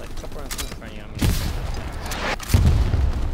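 Rounds land and burst nearby in Hell Let Loose, two heavy booms about a second apart over a rumbling battlefield, with a voice talking faintly in the mix.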